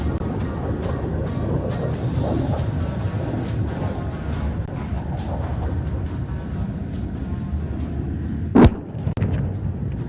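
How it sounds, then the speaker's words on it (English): A laser-guided bomb dropped from a Su-30 MKI hits its target during an Indian Air Force exercise. Under a steady roar of wind and engines, one sharp, loud blast bursts out near the end. "To execute this mission, a Su-30 MKI is planned to drop a laser-guided bomb."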